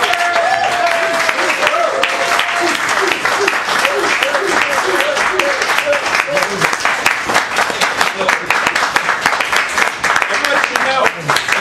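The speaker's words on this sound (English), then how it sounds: "I want a round of applause for Lou Jasikoff." A roomful of guests at a Montgomery County Libertarians holiday party applauds in a loud, sustained wash of clapping, with voices cheering and chattering over it throughout.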